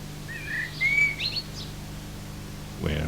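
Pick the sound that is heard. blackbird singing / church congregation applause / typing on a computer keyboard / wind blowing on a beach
blackbird singing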